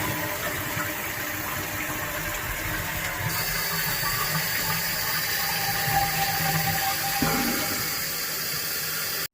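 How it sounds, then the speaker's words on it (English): A toilet flushes and then refills, steady rushing and hissing water running through the tank for several seconds, with a shift in tone partway through and a fade at the end. "go ahead and flush your toilet"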